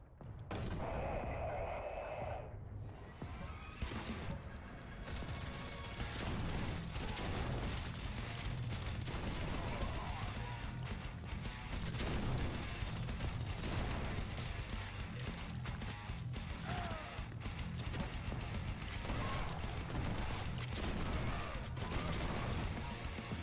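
Dense, loud video game combat with continuous gunfire, explosive launcher blasts and booming impacts layered with music, sustained throughout with a brief quieter moment near the start.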